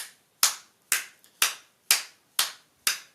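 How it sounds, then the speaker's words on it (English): One person claps six times, sharp and close, with even pauses of about half a second between claps, during an address on the Biafra sit-at-home. "I want you to clap for yourself."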